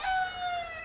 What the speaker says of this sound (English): I got a free rooster, which is the one you hear right now.